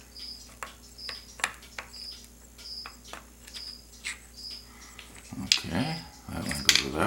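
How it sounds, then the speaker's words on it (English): Crickets chirp in steady, evenly spaced pulses against a quiet background, fairly faint and continuous, before louder handling clatter and shuffling noises take over toward the end. "I still got crickets"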